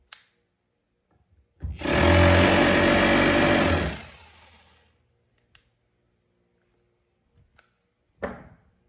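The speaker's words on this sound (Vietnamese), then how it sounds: "Đục bê tông này." An FEG 800W hammer drill in chiseling mode for concrete gives one loud, close buzzing run of about two seconds, then cuts off. Later come a few faint clicks and a short final burst.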